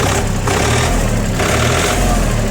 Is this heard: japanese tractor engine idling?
yes